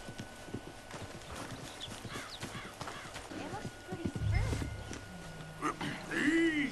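Horse hooves clip-clop at a walking pace nearby in Red Dead Redemption 2, followed by a snort and whinny, with someone talking over them.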